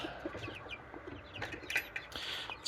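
Chickens cluck in a temporary coop, with several short overlapping calls scattered through moderate background noise and one sharper squawk near the middle.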